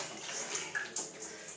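Water splashes and pours during an outdoor bath, a soft continuous wash with a few small clicks and drips, faint and close with no talking.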